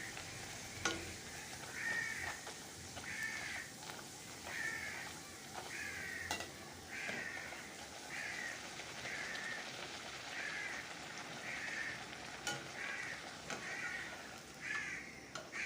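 Bhotora bread frying in hot oil, a soft continuous sizzle with faint bubbling, low and fairly quiet, with regular light tapping and stirring sounds over it.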